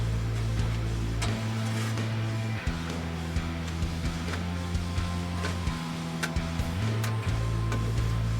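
Power steering pump running on a turbo AWD Talon, a steady close electric whine and hum with pitch steps partway through and a few faint clicks, no talking.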